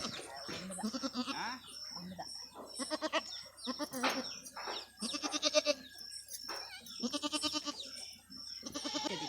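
A farm goat that has just given birth to a kid bleats loudly and repeatedly at close range, with short gaps between calls.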